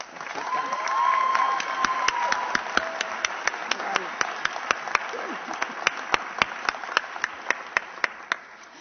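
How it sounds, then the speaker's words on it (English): A commencement audience claps steadily, with distinct sharp claps ringing out over a dense wash of applause that starts full and thins toward the end. "So please join me in a round of applause to thank Jennifer."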